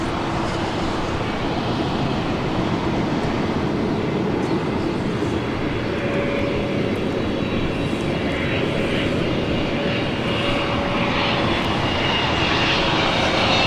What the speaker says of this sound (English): China Airlines Flight 10 coming in from Taipei, 777-300 5 right at Juliet.